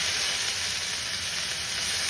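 Onion, garlic, curry leaves and fennel seeds sauté in a hot pan for a coconut milk kurma, making a dense, even sizzle that fills the space at close range, with no voices.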